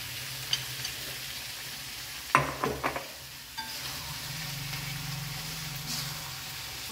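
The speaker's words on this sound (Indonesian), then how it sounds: "saatnya kita masukkan ikan yang sudah kita goreng. Ini kita kotok bersama ya." Fried fish is stirred into a sizzling spicy sambal pindang sauce in a pan, with a steady frying hiss, a few sharp scrapes and clatters of the utensil, then continued sizzling, no talking.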